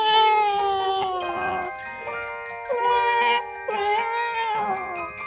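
A voice imitates a cat, drawing out several wavering, high-pitched meows one after another, close and fairly loud.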